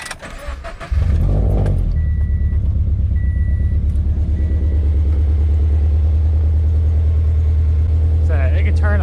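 A Subaru BRZ fitted with an angle kit cranks and fires up at night, then settles into a loud, steady idle rumble that continues to the end.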